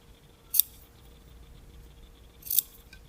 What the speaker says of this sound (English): now I'm going to go and add some little snips throughout here so that this lays flat.